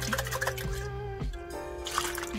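Clean water splashes and trickles into a paint water bucket being rinsed out, a close, steady wet pouring with some drips, over a faint background tone.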